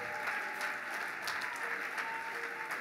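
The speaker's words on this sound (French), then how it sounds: "Est-ce qu'on peut applaudir le Seigneur pour lui?" A church congregation claps steadily in a dense, continuous round of applause that fills the room at moderate loudness, with faint voices mixed in.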